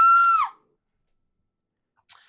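A woman startled by a jack-in-the-box springing open lets out one sharp, high, loud scream that breaks off abruptly, followed by silence and a brief faint noise.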